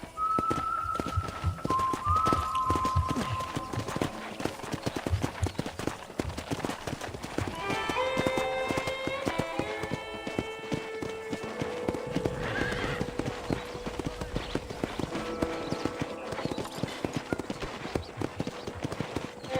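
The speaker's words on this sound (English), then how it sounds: "let's see if you can still ride a horse" Rhythmic clip-clop of horse hooves trots steadily throughout, with a horse whinnying partway through over a soft outdoor ambience, from Red Dead Redemption.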